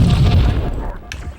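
A grenade blast in Halo: Combat Evolved on the Xbox: a loud, deep boom that rumbles and fades, ending with a small sharp crack.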